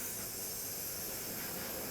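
Steam rushes from a wood-fired boiler through copper pipes into sorghum syrup pans, a steady loud broadband hiss that holds unchanged for two seconds with no talking.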